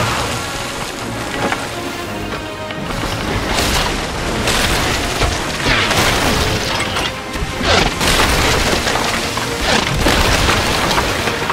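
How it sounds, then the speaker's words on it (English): Ship cannons firing in the pirate video game Sea of Thieves, a run of loud booming blasts and crashes over a constant rain-like wash of sea and weather noise, with no talk. "Arm the cannons."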